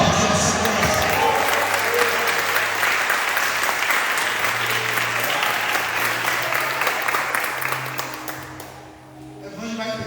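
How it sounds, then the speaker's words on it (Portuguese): A church congregation at a Sunday celebration service applauds loudly and steadily for about eight seconds, dense clapping that dips briefly near the end before picking up again, with faint crowd murmur underneath. "Quem pode aplaudir o Senhor?"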